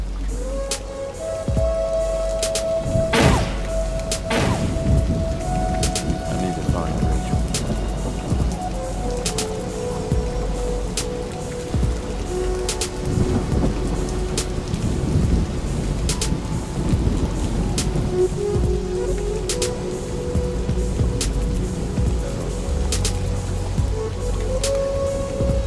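Steady rain with rolling rumbles of thunder and occasional sharp cracks in a moody cyberpunk city scene from a VR demo, with a constant wash of downpour throughout and a faint low synth-like drone underneath.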